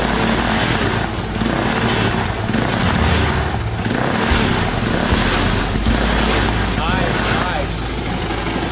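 A warm HHO-modified single-cylinder thumper motorcycle engine runs steadily and loud throughout, a continuous rumbling drone with slight surges, close by and dominating.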